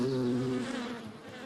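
A bee buzzes loudly and steadily up close, its droning hum holding firm before easing slightly toward the end.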